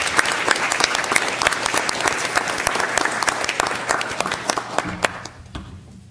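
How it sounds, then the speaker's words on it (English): Courtroom audience gives a round of applause for newly sworn Florida Bar members at an induction ceremony, brisk sustained clapping that thins out over about five seconds and then fades. "Let's give them a round of applause."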